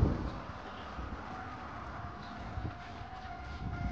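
A train rumbling near a station in Japan, a steady broadband roar of rolling wheels and carriages heard fairly close for a few seconds, with no talking.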